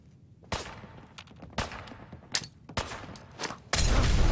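Gunfire in Fallout 4, a string of sharp, loud gunshots spaced irregularly about a second apart, each with a short echoing tail, ending in a denser sustained burst of noise.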